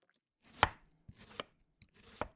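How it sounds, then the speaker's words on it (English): A knife chops through onions on a cutting board in three separate bursts of close, crisp cutting strokes, with short pauses between them and no talking. "that's someone chopping onions"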